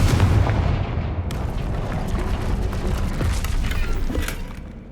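A Confringo fire spell blasts in the Hogwarts Legacy video game, a loud, dense burst of booming, crackling impact noise that rolls on for several seconds before fading out at the end.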